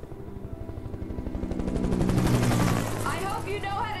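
Rapid gunfire rattles over the steady thump of a helicopter's rotor in Alan Wake, the barrage building in loudness and then tapering off.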